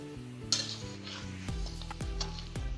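Chicken coated in stone-ground cumin and coriander is stirred in a kadhai, with a loud continuous sizzle broken by several sharp metallic knocks of the spoon against the pan at irregular intervals, with no talking.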